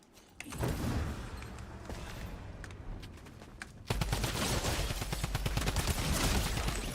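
Gunfire from a gun in Fortnite rattles in rapid bursts, at first moderately loud and spaced, then a denser, louder stream of quick automatic shots for the last few seconds.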